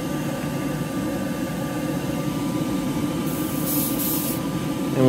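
Cobra Motor acrylic paint sprayed as a light tack coat from a short distance, a steady close hiss that runs throughout and brightens with a sharper burst near the end.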